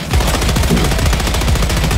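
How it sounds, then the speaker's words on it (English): Rapid, loud automatic fire from a cannon in the Helldivers 2 video game, a dense rattling stream of close, heavy shots that continues without pause. "Be advised, we got a cannon out there."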